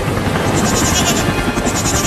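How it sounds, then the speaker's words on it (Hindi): A goat bleats loudly and close by in a desi comedy sketch, a sustained, wavering cry that fills the whole two seconds. "चल पायलट, अब पकड़ उस बकरी"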